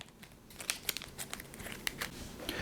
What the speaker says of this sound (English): I shuffle my shield toss back in the deck like I was supposed to